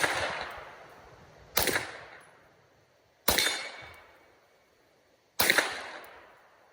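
A MAC IV submachine gun fires truncated flat-nose Federal rounds, heard as four loud, sharp single shots spaced a second or two apart, each followed by a long ringing outdoor echo that fades out.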